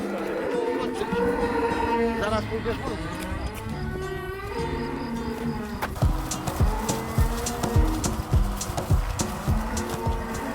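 Cattle of the Polish white-backed breed low on a pasture, several moos overlapping across the clip, moderately loud and near, with farm background noise and no talk.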